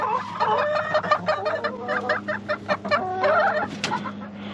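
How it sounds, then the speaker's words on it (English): A chicken in a greenhouse clucks in a busy run of short, close, fairly loud calls over a steady low hum, with no talking. "So there's definitely activity over here, and there's a chicken."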